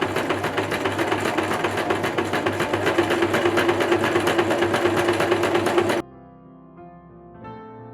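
A sewing machine runs steadily at a loose stitch through strips of tulle, a fast even rhythmic whir close by, stopping abruptly after about six seconds, after which a soft background tone remains.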